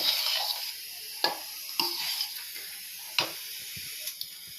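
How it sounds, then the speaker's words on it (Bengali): A spoon stirs a sugary mixture in a pot, with rose water being added, producing a soft continuous hiss broken by several sharp scrapes and taps against the metal, close up and with no voices. "তো এটাকে আমি খুব ভালো করে নেড়ে নেব।"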